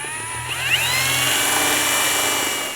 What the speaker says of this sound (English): I'm gonna pre-drill right here